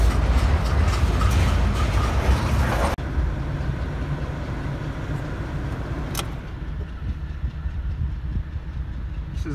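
A CSX freight train rolls past close by on the Clinchfield line with a loud, steady rumble and wheel clatter. The noise eases slightly partway through, then continues as the cars keep passing.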